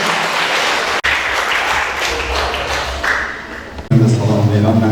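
An audience at a memorial mawlid gathering applauds to welcome a guest, loud clapping rising and dipping over several seconds, and a voice speaks through part of it before a sharp cut to a louder, more tonal passage.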